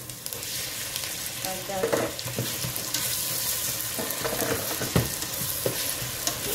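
Chopped tomato hits sautéed onion in a hot pan while cooking poulet DG, giving a loud, steady sizzle and frying hiss broken by stirring scrapes, with a few words spoken briefly.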